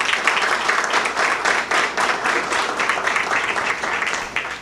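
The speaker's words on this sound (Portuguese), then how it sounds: "peço uma salva de palmas" Loud, close audience applause at a 2016 election hearing event, a crisp flurry of many hands clapping that swells and pulses steadily for several seconds without speech.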